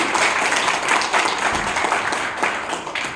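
Audience applause at a business seminar after thanks to a planning director, dense and steady for a few seconds at moderate level, with scattered louder claps and little talk.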